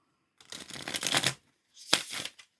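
Storyboard Tarot cards riffle-shuffled up close, two quick bursts of flapping card noise separated by a short pause.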